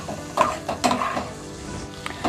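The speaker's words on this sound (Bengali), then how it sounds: "রসুনটা কিন্তু ভালো করে ভেজে নিতে হবে।" Garlic frying in oil for a dhaba-style mixed dal tarka, with a spoon stirring and scraping the pan in several quick strokes over a soft, steady sizzle, close and fairly loud.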